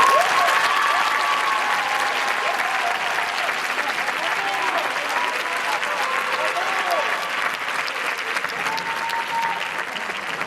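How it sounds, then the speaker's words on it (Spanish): Loud, sustained applause from a crowd at a high school graduation ceremony for second-year baccalaureate students. It holds steady for about ten seconds, with a few tonal sounds mixed in. "un fort aplaudiment per a nosaltres"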